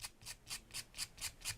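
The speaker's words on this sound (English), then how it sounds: "you can sand it down till you've got a smooth edge" Sandpaper wrapped on a sanding block rubs back and forth along the edge of a craft piece in seven even, rhythmic strokes, a close, quiet rasping with no talk.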